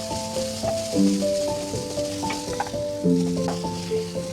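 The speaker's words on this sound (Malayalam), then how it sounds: "എന്നിട്ട് ഇതൊന്ന് നല്ലോണം ഒന്ന് വഴറ്റി കൊടുക്കാം" Crushed ginger and green chillies sauté in a hot pan, a soft steady sizzle with scraping stirring sounds, while faint tonal music plays throughout.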